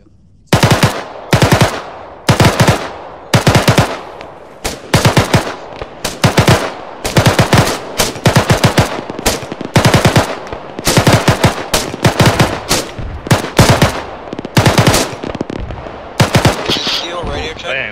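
Bursts of automatic gunfire in the military shooter Arma 3, loud, close rattling volleys repeating in rapid strings with brief pauses between them throughout.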